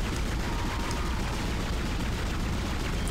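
Rapid, continuous weapon fire from the sci-fi horror game Dead Space, a dense, unbroken barrage of shots filling the whole stretch at steady loudness with no talk over it.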